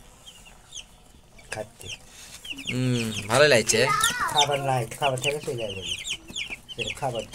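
Sonali breed chickens on a poultry farm cluck and squawk loudly and close by, in rising overlapping calls with brief pauses, while a person speaks briefly.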